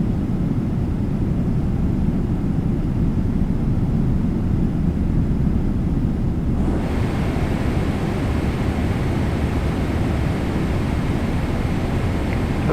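A Boeing 777-200ER jet in Microsoft Flight Simulator starts its takeoff roll, its engine roar a steady loud rumble that swells abruptly halfway through into a louder, brighter full-power hiss.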